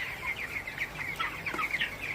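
Broiler chickens on their nineteenth day cluck and chatter inside a tin-roofed shed, a steady overlapping chorus of soft calls at moderate distance with no voices.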